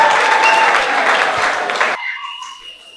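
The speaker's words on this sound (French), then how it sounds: "Applaudissez s'il vous plaît." Guests at an official wedding ceremony applaud in a loud, dense burst of clapping that cuts off abruptly about two seconds in, leaving a quiet tail of room sound.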